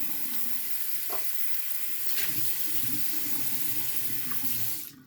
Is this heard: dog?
no